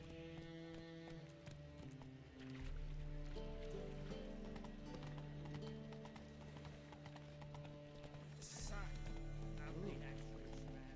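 Hooves of Geralt's horse Roach clip-clop in a steady trotting rhythm in The Witcher 3: Wild Hunt on PC, continuous and fairly close over game music.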